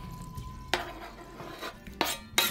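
Raw meat tipped into a hot pan of vegetables for fajita filling, giving several sharp sizzling bursts and clatter against the pan over a quiet background, with no talking.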